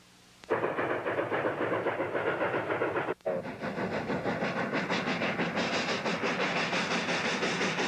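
A Rio Grande Southern train departs Lizard Head and climbs Leopard Creek toward Dallas Divide, a loud steady rumble and chuff starting abruptly, briefly dropping out, then continuing with rhythmic hiss and clatter.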